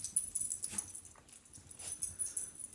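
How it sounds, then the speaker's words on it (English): A dog whimpers softly a few times, faint and intermittent over a quiet indoor background. "I got some dogs with attitudes, man."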